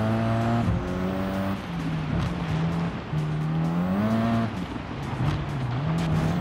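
A race car in Gran Turismo 7 driving on a dirt course, its engine droning and rising and falling in pitch through shifts and corners, loud and close, with no talk over it.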